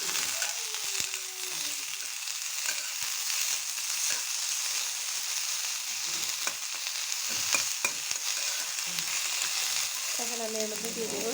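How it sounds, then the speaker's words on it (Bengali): Chopped onion and garlic sizzle steadily in a pan while being made into a raw mango pickle, with a continuous hissing fry broken by scraping, clattering stirs and a brief voice near the end. "এখন দিয়ে দিচ্ছি পেঁয়াজ আর রসুন কুচিটা দিয়ে দিচ্ছি"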